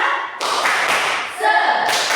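A school class performs a rhythmic spirit clap, with loud, close bursts of clapping and thumping in a quick patterned sequence lasting about two seconds, with voices chanting along.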